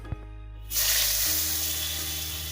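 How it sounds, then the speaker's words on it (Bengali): Long-cut potatoes dropped into hot oil, erupting into a loud, steady sizzle and bubbling after a short clank at the start. "আলুগুলোকে আমি লালচে করে ভাজা করে নেব"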